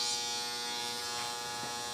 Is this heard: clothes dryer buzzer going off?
yes